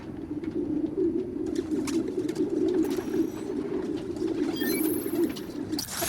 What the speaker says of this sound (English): The place was swarming with pigeons.